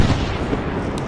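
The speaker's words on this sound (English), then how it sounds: "Artillery." Artillery fire in ArmA 3 gives a brief, heavy, continuous rumble of distant blasts, dense and loud throughout the short moment.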